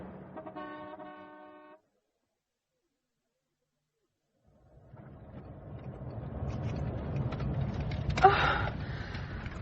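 Cars drive along a road in a radio drama, with a brief horn-like tonal toot first, then silence, then a rising, steady engine and road rumble that builds with a sharp knock near the end, no voices.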